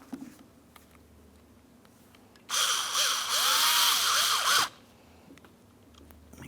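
A power screwdriver drives a Phillips head screw into a rear sliding door lock actuator on a 2008-2016 Chrysler Town & Country, one steady whining burst of about two seconds, close and loud, with quiet handling noises before and after.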